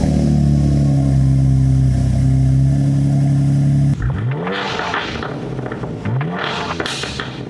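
A BMW G87 M2 fitted with a new AWE valved exhaust idles with a loud steady drone, then is revved hard twice, each blip rising sharply and falling back, close and loud with no talk.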